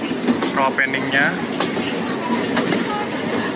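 A 100-year-old tourist train rides from Ambarawa to Tuntang, its carriage giving off a rumbling rattle with squealing wheel tones and intermittent clicks over the rails, while voices talk faintly in the background.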